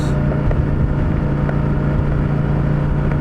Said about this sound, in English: there's a little bit of tyre noise